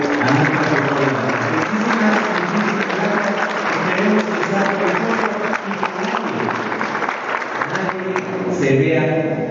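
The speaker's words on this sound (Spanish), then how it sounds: "Les pido de favor que nuevamente brindemos un fuerte aplauso" Audience applause at a health-sciences talk on personal data protection: steady, dense clapping that fills the whole stretch, mixed with a tonal, music-like layer underneath.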